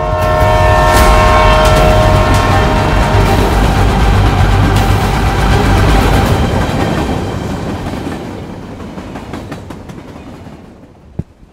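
A passenger train runs past loudly with a heavy rumble and rattle, a sustained horn blast sounding over the first several seconds before the noise recedes and fades out toward the end.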